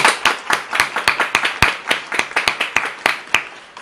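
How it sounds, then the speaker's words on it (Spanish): A small audience claps for a guest introduced on a Peruvian sports-health talk show: sharp, distinct hand claps in an uneven, fairly sparse rhythm, close and loud throughout, with no talking. "Un fuerte aplauso, por favor."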